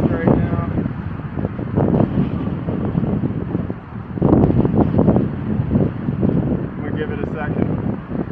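Strong gusty wind of around 40 mph at an outdoor airgun shooting range buffets the microphone with a low, rumbling roar that swells and eases while someone talks over it.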